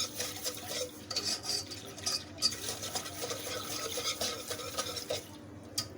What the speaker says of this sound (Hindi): इसको बीटर से अच्छी तरह मिक्स कर लेती हूँ,